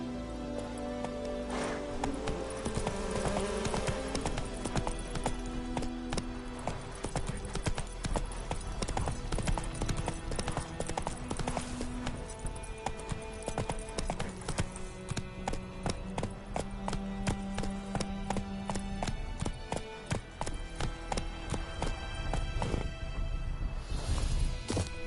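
Roach's hooves clip-clop steadily in The Witcher 3: Wild Hunt, a close, continuous rhythmic trot of a horse lasting the whole stretch over a background of rain-like patter and game ambience.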